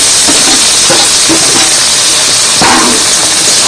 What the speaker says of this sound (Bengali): ভালো করে ভেজে নিয়েছি এবার রসুন দিয়ে দিচ্ছি